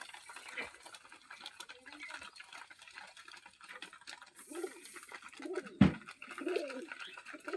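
Pigeons at a loft, heard at night with soft, intermittent cooing and rustling over a quiet background, plus one sharp knock partway through.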